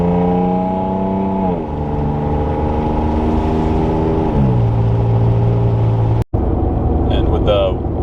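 A Gen 3 Toyota Tacoma with a Carven exhaust accelerates onto a highway toward about 55 mph, its engine note climbing steadily through two gear shifts, loud and close inside the cab with a brief dropout near the end.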